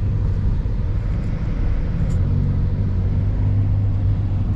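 Cabin of a 2021 Ferrari Roma on a night drive with the windows closed: a steady, muffled low engine and road rumble that holds constant throughout, with no talk.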